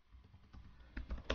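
Typing on a computer keyboard, a quick run of soft, close key taps that grow a little louder toward the end, with no voices.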